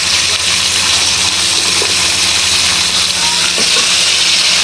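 Malabar spinach dropped into a hot pan gives a loud, continuous hiss of steam and sizzling oil that stays constant and close from start to end, with only faint clatter underneath.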